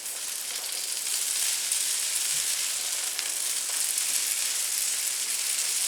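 Garlic paste sizzles steadily in a hot pan while pasta with fried rosemary and chickpeas is cooked, a bright, even frying hiss close by with a brief low knock partway through.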